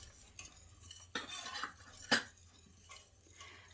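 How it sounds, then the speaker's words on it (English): A spoon stirs rennet into milk in a pot for Boursin cheese, with soft swishing and a few scraping clinks against the metal, close and fairly quiet. "We're going to add the rennet, stir that through."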